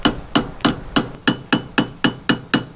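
A hammer pounds a corroded, stuck part on a jon boat with nine sharp metallic strikes in a steady, even rhythm, loud and close with nothing else in the background.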